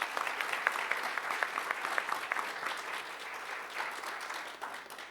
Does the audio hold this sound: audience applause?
yes